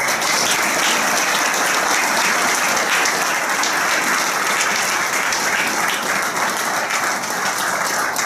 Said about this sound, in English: A round of applause for Carl.